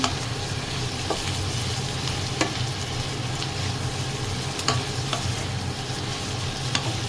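Humba pork being stirred in a hot pan, a steady close sizzle and frying crackle with scraping stir strokes throughout, no talk.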